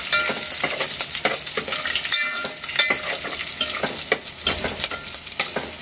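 Large pieces of green chilli crackling in hot oil for a tadka for dahi kadhi, close and busy, with frequent sharp spits and pops and stirring scrapes.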